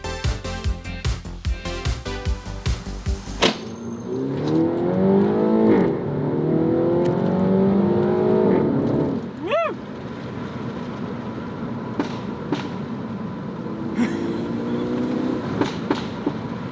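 An engine revs up and down with rising and falling pitch, punctuated by sharp crackling pops from the exhaust, loud and close.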